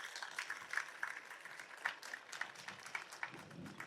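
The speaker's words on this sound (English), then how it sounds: "give a very big round of applause to our placement dean" Students clapping for a placement dean at a college Excellence Day event, faint and distant, a steady patter of many hands with sharper individual claps poking through.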